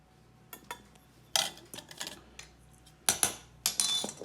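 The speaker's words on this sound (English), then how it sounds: "And we want to kind of stir them together." Flour, cocoa powder, baking soda and salt are stirred in a bowl, with irregular bursts of a utensil clinking and scraping against the bowl between quiet pauses.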